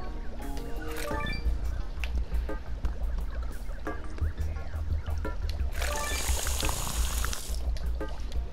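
Water pours from a sink faucet in the Adventure Time video game, a steady splashing stream that runs throughout over a busy background of game sounds and music, growing brighter and louder near the end.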